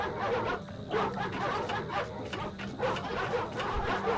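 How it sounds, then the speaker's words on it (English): Dogs bark in the video game Ratchet & Clank, a string of short rhythmic yaps over busy game noise, moderately loud and repeating throughout. "Yeah, keep barking."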